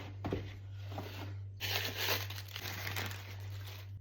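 Plastic wrap and cardboard crinkle and tear as a window of a MAC makeup advent calendar is opened. The crumpling is close and continuous, with a denser burst of rustling midway, over a steady low electrical hum.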